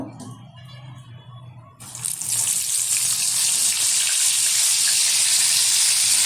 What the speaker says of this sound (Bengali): এখন আস্তে আস্তে মাছগুলো আমি তেলের মধ্যে ছেড়ে ভেজে নেব